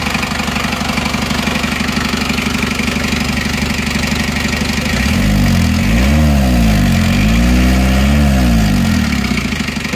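An Isuzu Panther 2.3-litre diesel engine idles steadily with a rough, knocking low rumble that swells and revs up midway, staying loud and close throughout with no talking.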